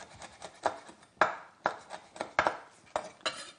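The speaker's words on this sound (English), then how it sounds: "one green chili. And you just chop it up." A knife chops a green chili on a board in about ten crisp, close strokes, irregularly spaced and fairly loud, with no talk.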